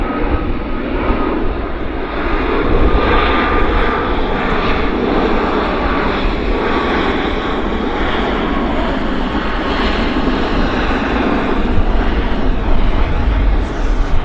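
A Boeing airliner arriving at Vancouver airport, its engines producing a loud, continuous roar and rumble that holds steady throughout, close by.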